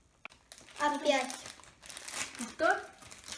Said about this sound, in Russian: Эти коробки так легко открывать.